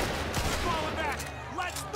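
Gunfire from the Mafia 2 video game crackles in quick bursts and scattered single shots while a player talks excitedly over it.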